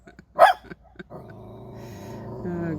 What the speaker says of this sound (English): She's barking at herself.